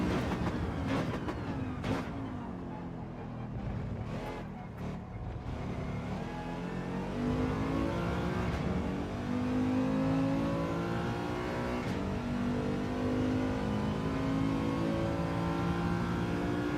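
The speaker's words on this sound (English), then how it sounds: "This car is so quick on acceleration, you know." Race car engine in Gran Turismo 7 accelerating hard, its note climbing steadily through the gears as a loud, sustained, close-up whine with brief shift dips early on.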